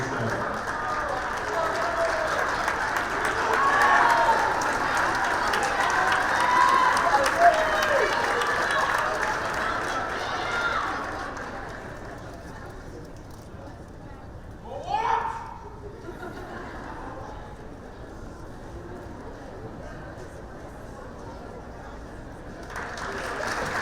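A gym crowd at a girls' high school basketball game applauds the seniors, sustained clapping and cheering that fades after about ten seconds into murmuring chatter, with a brief shout later.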